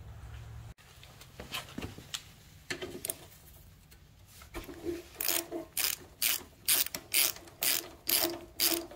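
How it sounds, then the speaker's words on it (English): Ratchet wrench loosening the two 12mm carburetor bolts on a Yamaha V Star 650 motorcycle, clicking in quick bursts that grow into a steady series of loud, close ratcheting strokes with no talk. "Next, we'll remove the 2 12mm bolts."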